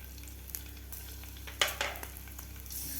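Cumin seeds, green chilli and garlic dropped into hot oil for a green pea cutlet, giving a low steady sizzle with a few sharp crackles and spits around the middle, close and without talk.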